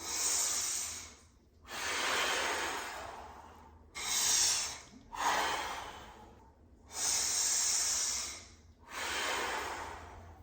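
Deep, slow breaths during a foam roller stretch for the ribs and upper back, six long airy inhales and exhales in a steady rhythm with short pauses between, close and loud.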